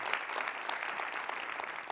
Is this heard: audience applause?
yes